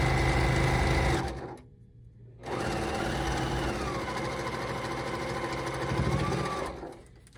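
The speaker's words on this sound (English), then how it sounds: "So let's do our sewing right now." Sewing machine stitching a toweling tote handle, a close, steady motor whir with rapid needle rattle, a brief pause around two seconds, then resuming at an even pace.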